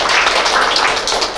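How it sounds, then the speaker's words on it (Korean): An audience at a government AI and data administration meeting applauding, a dense burst of close clapping lasting just over a second. "강성규 의원님께 다시 한번 큰 박수 부탁드립니다"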